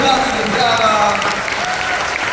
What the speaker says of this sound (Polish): Serdeczne gratulacje, brawa!